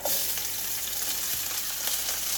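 Scotch bonnet pepper, scallions and onions sautéing in vegetable oil in a skillet, a dense, even sizzle with light crackles close by and no speech.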